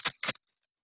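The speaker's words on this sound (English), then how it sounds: "I've got some keys" A bunch of keys shaken as a makeshift instrument in a music lesson, two quick close metallic jangles in succession, then silence.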